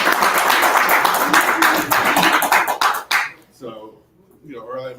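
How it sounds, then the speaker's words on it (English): An audience at a business breakfast talk claps in a dense burst of applause that fades out, followed by a person beginning to speak. "I think she deserves another applause"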